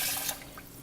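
Water poured from a cup into a pot for cooking brown rice, a short splashing pour with a brief surge that tapers off, close and fairly quiet, with no talk.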